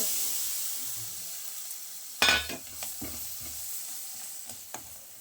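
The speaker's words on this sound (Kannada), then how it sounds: "ಈ ಥರ ಬೆಲ್ಲ ಎಲ್ಲ ಕರಗುತ್ತದೆ" Soft sizzling of jaggery melting in a pot with a few sharp scrapes and clinks of a spoon stirring, fairly quiet and close.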